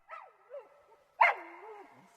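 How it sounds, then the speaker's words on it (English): Tiny black poodle giving a few shrill, high barks and yips, heard close and alone in a quiet barn. "A shrill barking came from one of them, and the boys saw a tiny black poodle standing up."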